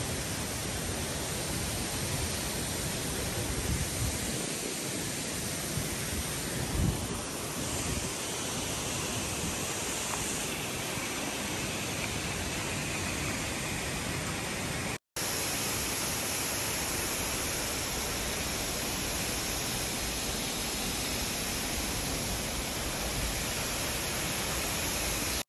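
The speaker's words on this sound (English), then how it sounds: "यो जाजरकोटको झरना हो" The Jajarkot waterfall in Nepal roars as a constant, dense rush of falling water, steady and enveloping, with one brief cut in the middle.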